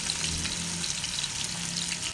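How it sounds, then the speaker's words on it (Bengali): Rui fish pieces fry in hot mustard oil in a pan, a steady, close and loud sizzle that crackles continuously, with no talking. "এবারে মাছগুলো আমি সরিষার তেলে হালকা করে ভেজে নিব।"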